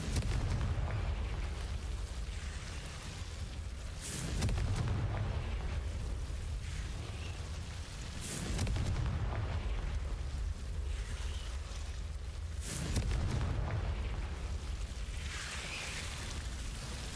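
Confringo spell explosions in Hogwarts Legacy, three or four deep booming blasts spaced about four seconds apart over a low rumbling game soundscape, fairly quiet overall with no talking.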